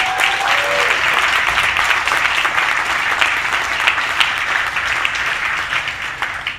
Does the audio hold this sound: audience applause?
yes